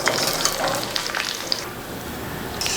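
Potatoes deep frying in oil for a crispy snack give a close, busy crackle with bright spitting bursts that ease slightly toward the end, no speech.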